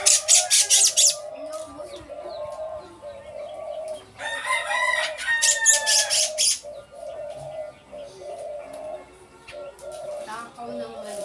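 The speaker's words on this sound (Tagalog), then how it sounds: "Masipag siyang humuni," A pet bird calls near at hand with repeated squawks, whistled notes and crow-like bursts, loud at the start and again in the middle, with softer low chirping between them.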